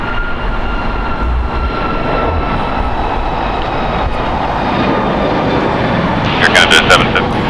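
Air Canada Boeing 737 MAX 8 at LAX, a steady loud jet engine roar holding across the whole stretch, with a few brief brighter bursts near the end.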